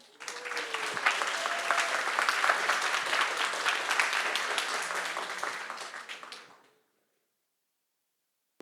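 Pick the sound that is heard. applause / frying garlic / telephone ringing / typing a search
applause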